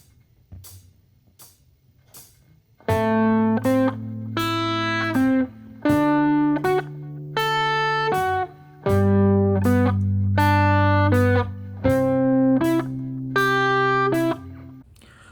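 Guitar picking single notes of a pentatonic shape in a repeating low, mid, high, mid order, each note ringing clearly and evenly spaced, the pattern running through several cycles alone without talk.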